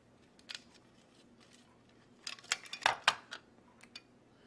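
A nylock nut is threaded onto a metal bolt while a quadcopter frame is assembled, giving small scattered metallic clicks and scrapes close up, with a denser cluster of clinks near the end.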